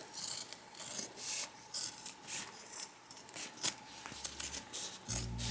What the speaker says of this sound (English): Now we're gonna cut off about half of this seam allowance.